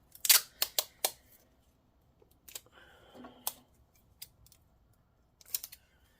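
Scissors snip through tape while a Dell Inspiron 5515 laptop is being repaired: a quick run of sharp clicks and cuts up close, then a quieter crinkly stretch and a few more scattered snips.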